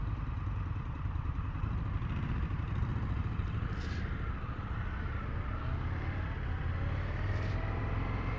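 An Indian FTR1200 S motorcycle engine idles steadily and close by, a continuous low rumble with even mechanical clatter throughout and no talking.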